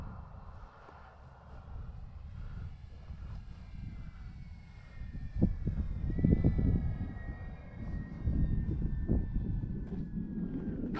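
An E-flite Beechcraft D-18 RC model plane coming in to land with flaps down, its electric motors giving a faint, wavering high whine over wind and outdoor rumble, with gusty thumps growing louder midway.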